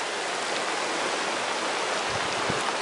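A river flows in green hills after recently running heavier, giving a continuous broadband rush of water that is steady and moderately loud throughout.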